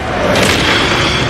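A fire spell in the Hogwarts Legacy video game bursts out as a loud, dense whoosh and boom. Its roaring body fills the short moment without a break.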